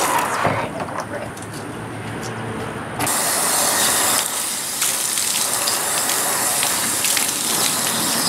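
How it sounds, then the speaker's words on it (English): Running water rinsing a cyanotype print in a water bath, a steady close hiss and splash that gets louder and fuller partway through and continues without break. "Just give it a good rinse."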